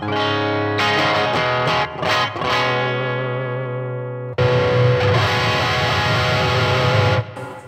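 Distorted electric guitar played through a Peavey Vypyr 15W amp on its Plexi model sounds loud and sustained: ringing chords that decay, then a fresh strummed chord held before cutting off.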